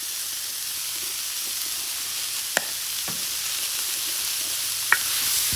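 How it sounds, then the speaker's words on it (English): Onions frying in Cajun Creole garlic butter in a discada, a steady bright sizzle and hiss throughout, with a few brief sharp clicks of a utensil against the metal. "I'm just gonna cook these onions right there and all that fond"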